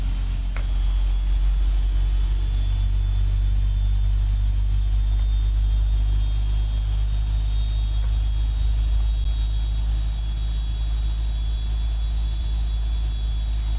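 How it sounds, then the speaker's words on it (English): A Boeing 777-300ER jet engine starting up, heard as a loud, steady low rumble and roar with a thin high whine running over it throughout, no voices. "Starting engine number 2."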